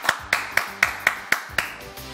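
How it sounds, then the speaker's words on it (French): Studio audience on a French TV show clapping in unison, seven sharp, evenly spaced claps at a brisk steady beat, fairly close, no talk. "Applaudissements, merci beaucoup."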